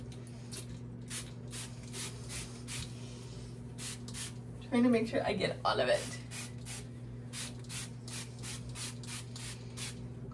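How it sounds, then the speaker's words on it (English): Heat protectant hair spray is sprayed in a few short hissing bursts held at a distance, close and brief in the middle of the stretch, while someone talks quietly throughout over a steady background hum. "Heat protectant spray. I hold it like kind of far away."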